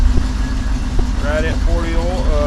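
A Loadstar truck engine idles with a steady low throbbing hum and a regular pulse, close by, while someone talks over it.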